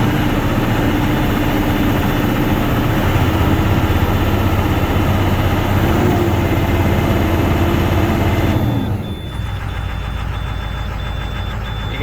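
Navistar VT365 V8 diesel engine idling steadily after a cold start with a loud, continuous low rumble and knock, then dropping abruptly as the revs come down near the end.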